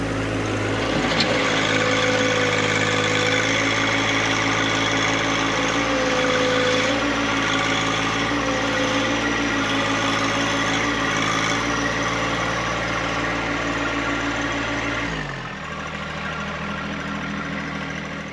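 A John Deere 1025R compact tractor engine runs steadily with a mid-pitched drone and faint knock, close and continuous, the pitch dropping as it settles lower near the end.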